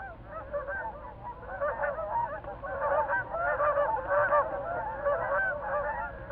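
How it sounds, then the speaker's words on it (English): A flock of Canada geese honks continuously at dawn while flying in from the north, many overlapping calls forming a steady loud chorus. "At dawn, the Canada geese wing in from the north."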